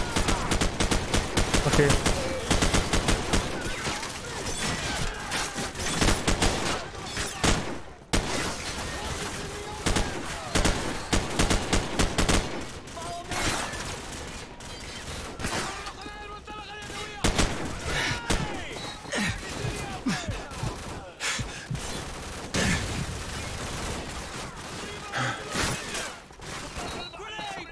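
Rapid machine gun fire in Call of Duty 4: Modern Warfare, with dense bursts of automatic shots running nearly the whole time, loud and close, with brief pauses and someone talking over parts of it.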